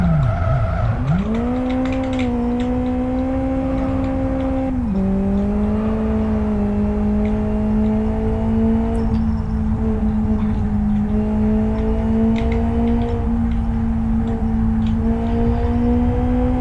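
An Opel Corsa mod car in the Live for Speed racing game drives with a steady, loud engine drone that rises and falls through gear changes, with occasional faint tyre noise.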